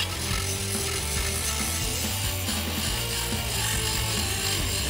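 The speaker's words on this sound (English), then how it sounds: "now I've got to come back with a little small grinder to prep the surface around here" Small grinder prepping a fiberglass body surface during a 1978 Pontiac Trans Am build, a loud continuous mechanical whirring and rattling that runs steadily throughout, alone with no talk.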